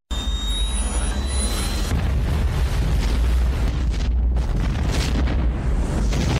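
Bombs hidden inside baby dolls go off in a 1998 action film, a dense roaring blast with crackling debris and a sustained rumble, loud and continuous, with a few high squeals early on.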